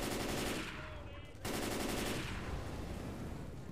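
Rapid automatic gunfire in the video game Left 4 Dead: a dense, continuous rattle of shots, briefly easing and cutting out before resuming, heard quietly as game audio.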